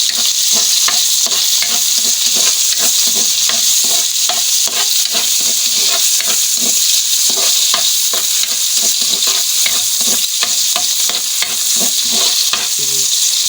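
Tomatoes sizzle in a frying pan under a constant bright hiss, while a utensil stirs them in quick repeated scraping strokes throughout, close and loud with no speech.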